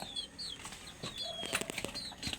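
Chickens and roosters in a rural yard in Quezon: scattered clucks and brief flaps of wings, fairly faint and distant, against a steady outdoor background with no talk.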